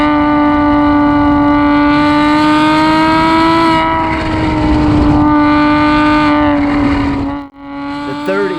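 A Porsche Boxster S with a valved exhaust drones loudly and steadily at held revs, a rich, buzzy engine tone that swells slightly and then briefly drops out near the end.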